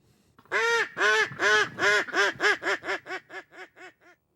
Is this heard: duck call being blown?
yes